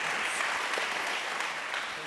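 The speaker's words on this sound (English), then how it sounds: "Please give a round of applause for our speakers." Audience applause after a pharmaceutical drug-shortage panel discussion, a steady, dense clapping from a crowd in a hall that holds at an even level throughout, with some voices mixed in.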